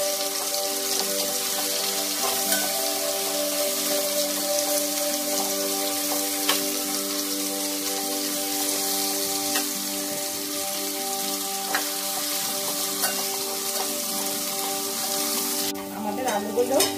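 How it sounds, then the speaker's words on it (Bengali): Potatoes fry in hot oil with tempering spices, giving a steady, close sizzle and crackle throughout, with occasional sharper pops and a brief stirring clatter near the end. "আমি ফোরনের সাথে আলুটাকে ফ্রাই করব।"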